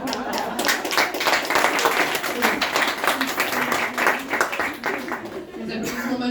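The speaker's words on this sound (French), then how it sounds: "Les applaudissements majoritairement féminins." Applause from a mostly female audience at a stand-up comedy show, a burst of clapping that fills the room and fades out at the end, with a voice speaking over it.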